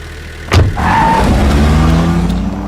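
A car skids and crashes in an action film scene: a sharp impact followed by a loud sustained engine roar with tyre screech, close and dominant for a few seconds.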